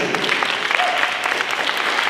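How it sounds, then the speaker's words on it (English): An audience gives a round of applause for a team, a dense, steady wash of clapping held at a moderate level across the whole moment with no talk over it. "can you give a huge round of applause to our awesome team?"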